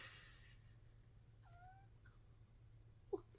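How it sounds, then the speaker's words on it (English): A cuddly pet cat meows faintly a couple of times indoors, short rising calls over a low steady background hum, followed by a brief soft thump. "So you might hear him meow a little bit, but he's chill."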